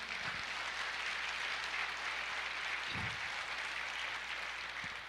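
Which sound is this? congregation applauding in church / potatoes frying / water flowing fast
congregation applauding in church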